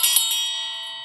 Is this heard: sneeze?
no